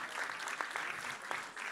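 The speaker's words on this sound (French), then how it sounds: "Alors on peut peut-être applaudir l'association" An audience claps at a community interreligious peace event in a Paris performance hall, marking an association's 20th anniversary. The applause is a steady, moderately distant wash of many hands that lasts throughout.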